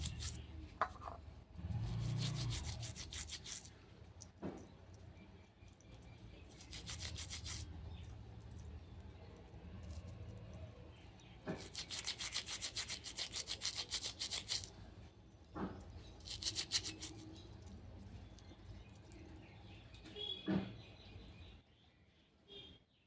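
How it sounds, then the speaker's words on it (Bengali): A brush scrubs a silver anklet with salt and a little water, giving close, soft rasping strokes in irregular bursts with quiet gaps between them. "ভালো করে ব্রাশটা দিয়ে ঘষে নিতে হবে"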